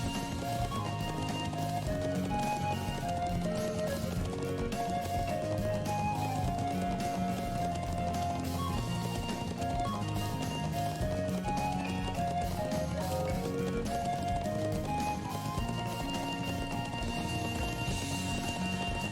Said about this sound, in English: Very bumpy ride. Very fast horse.